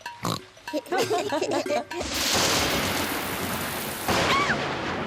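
Thunder from a storm in a Peppa Pig cartoon, a loud sustained rumbling crash that rolls on for several seconds after a stretch of cartoon character chatter, with a brief voice near the end.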